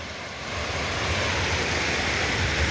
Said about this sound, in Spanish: una cascada aquí en el medio de la nada.